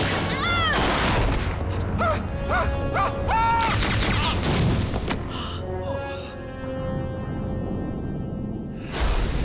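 Gunfire in a tense sci-fi confrontation as soldiers open fire on command, a loud burst of repeated shots and booms over a busy, dense soundtrack with whooshing effects, ending in a sudden sharp blast.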